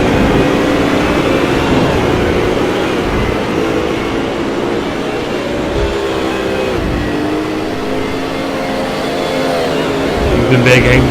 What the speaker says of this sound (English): Mitchell pushing his BMW very hard.